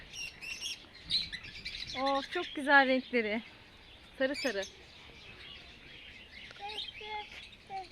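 Birds of various species chirp and trill in bright, repeated bursts nearby at a zoo while someone talks over them.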